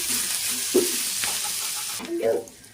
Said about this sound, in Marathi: कांद्यांचा कलर चेंज होईपर्यंत आपण याला परतून घेऊया हाय फ्लेमवर याला।